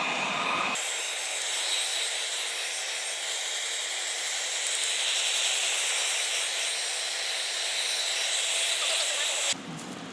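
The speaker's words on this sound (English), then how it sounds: "you want to grab your heat gun, and you can do it either on high or low setting" A heat gun drying primer on leather, blowing a steady loud hiss that starts abruptly and cuts off near the end.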